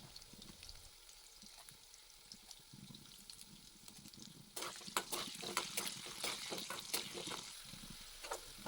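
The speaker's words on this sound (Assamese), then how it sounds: "ৰিফাইনখিনি গৰম হৈ অহাত মই দুখৰকৈ কটা আলুখিনি তাত ভাজি লৈছোঁ" Diced potatoes sizzle in hot refined oil, with a steady frying hiss that grows louder midway and carries sharp spatters and crackles from stirring.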